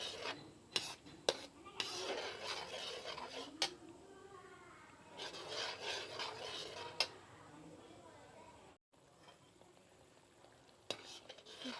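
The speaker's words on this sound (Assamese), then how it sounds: "এতিয়া গোটেইখিনি মই ভালদৰে লৰাই ললো" A spoon scrapes and stirs thick rohu fish masala in a pan over low flame, rasping strokes in uneven bursts with a brief silent gap, faint voice in the background.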